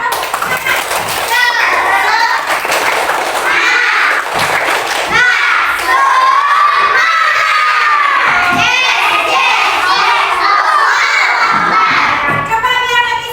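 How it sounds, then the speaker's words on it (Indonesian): A classroom of children loudly shout a rhythmic tepuk semangat chant together, their voices mixed with bursts of clapping and thumps, close and energetic, with a teacher's voice briefly leading between phrases. "Ayo, coba anak-anak ibu tepuk semangatnya mana?"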